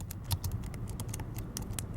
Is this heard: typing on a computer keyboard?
yes